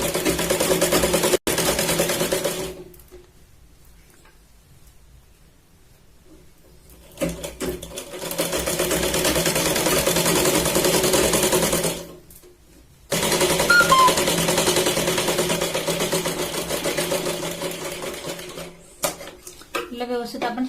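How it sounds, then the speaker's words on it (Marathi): A sewing machine runs in long continuous bursts, stitching a Katori-style saree blouse, with pauses between runs and a voice talking over parts of it. "शिलाईला आपण या साईडने प्रेस करत शिलाई लावून घेऊया व्यवस्थित"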